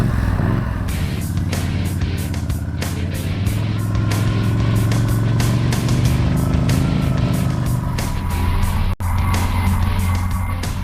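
A motorcycle rides through a training course, its engine droning steadily and loudly throughout with shifting revs and some tire noise, and no talking.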